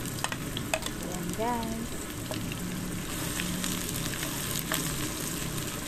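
Garlic and onion sauté in a pan as tinola chicken is started, a steady broadband sizzle with stirring scrapes running throughout, moderately loud and close, with a brief spoken interjection near the start.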